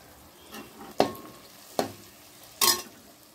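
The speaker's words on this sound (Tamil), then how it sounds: "இப்போ வந்து இந்த உதுத்து வச்ச இட்லியை நம்ம போட்டு கலக்கலாம்." Crumbled idli being stirred into fried onions in a pan for thuvaram paruppu idli upma, three distinct scraping stirs with a faint sizzle in between, close and fairly quiet.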